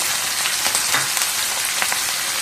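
Onions or spices frying in a pan for a home-style pulao, a steady broadband sizzle with crackly bursts throughout, close and even, with no one speaking.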